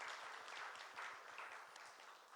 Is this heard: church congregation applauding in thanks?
yes